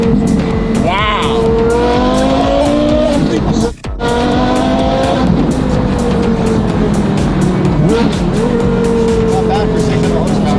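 A 600-horsepower Porsche Carrera GT manual hypercar accelerates hard from inside, its engine howl climbing through several rising gear sweeps with brief drops at each shift, loud and close, with voices talking over it.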